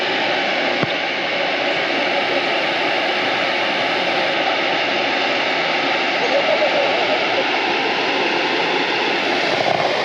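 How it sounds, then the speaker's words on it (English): A barge's engine drones as the vessel moves into a dam at sunrise, a loud, steady, broadband rumble that holds unchanged throughout, with no talking over it. "Barge moving into the dam."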